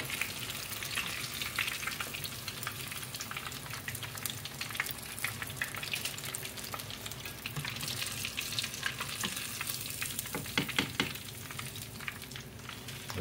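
Jumbo coconut-coated shrimp frying in oil that is running too hot, a steady close sizzle with bursts of crackle and popping that keeps going throughout, with no talking.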